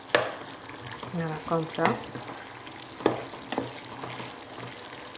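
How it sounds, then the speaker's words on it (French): Potatoes and onion fry over low heat in a pan and are stirred now and then, a steady sizzle with soft scraping strokes running under brief talk. "Puis on mélange. De temps en temps, on mélange."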